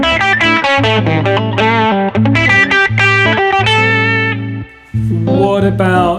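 Electric guitar with distortion and effects plays a quick run of notes over a sustained low backing, continuous and loud, with a brief gap near the end before the playing resumes.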